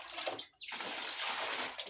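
Water running while farm vegetables are rinsed, a close, steady hissing splash that swells after a brief pause and continues unbroken.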